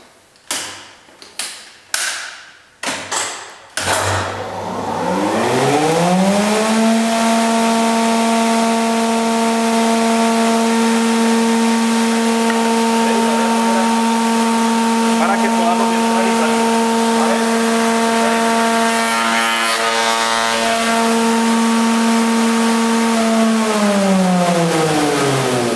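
A tupí spindle moulder starts after several clicks and knocks, its motor whine climbing quickly to a loud, steady, high hum that runs evenly, then begins winding down at the end.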